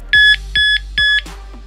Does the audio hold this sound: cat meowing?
no